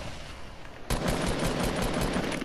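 Sustained burst of video game gunfire during a sniper fight, starting abruptly about a second in after quieter ambient noise, then continuing loud and dense with rapid repeated reports to the end.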